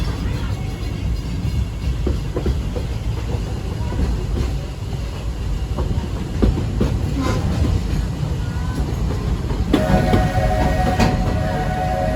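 Steady rumbling clatter of Walt Disney World Railroad train wheels on rails, continuous and fairly loud, with rhythmic knocks and a faint tonal whine near the end.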